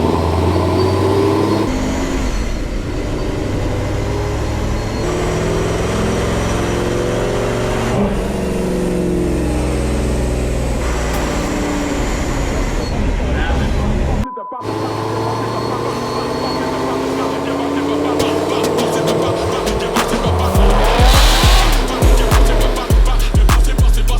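Car engine revving up through the gears on a chassis dyno during a performance tuning session, loud rising and falling engine pitch sweeps with a brief cut at a gear change, with voices talking over it.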